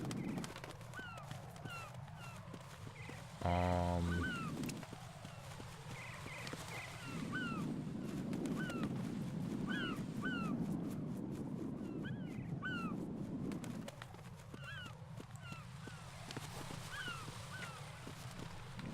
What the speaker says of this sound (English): That is a hell of a lot of birds.